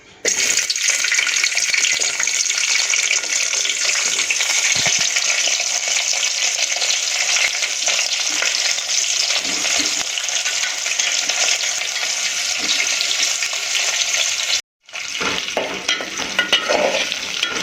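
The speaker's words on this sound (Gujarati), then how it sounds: "મિત્રો આપણે કેપ્સિકમ અને ડુંગળીને આપણે તેલમાં સારી રીતે ફ્રાય થવા દઈશું" Large-cut onion and capsicum pieces fry in hot oil, a loud, steady, close sizzle with stirring, briefly cutting out near the end before resuming.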